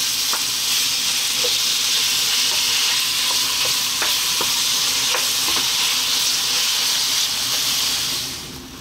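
Ground beef sizzles steadily in hot olive oil in a pot over lively heat, a loud continuous frying hiss with occasional faint stirring clicks, tapering off at the end.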